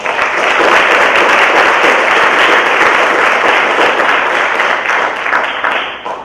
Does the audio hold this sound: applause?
yes